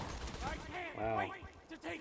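Gunfire in the video game Borderlands 2, a brief burst of rapid shots sitting under a player's voice and game sounds.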